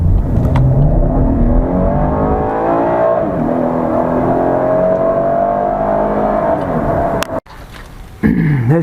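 A car engine revs hard and close as it accelerates through several gear changes on new Toyota tires, the rising drone dropping at each shift, then cutting out abruptly before a short burst of noise returns.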